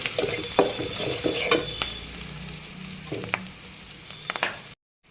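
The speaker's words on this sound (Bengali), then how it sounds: "মশলা ভালো করে ভেজে নিচ্ছি।" Onion, green chili, salt, turmeric and ground coriander and cumin fry in a pan for a Bangladeshi curry, giving a steady close sizzle broken by scraping stirs and a few sharp utensil clinks, then a sudden cut to silence near the end.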